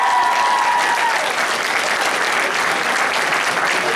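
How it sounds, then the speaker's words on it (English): Sustained applause from a seated audience at a live event, a dense, steady wash of many hands clapping at full volume for the whole stretch, with a faint voice briefly audible at the start. "let's give them one more applause."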